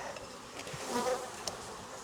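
Honey bees buzz steadily in an outdoor bee yard, a dense continuous drone near the listener with no voices.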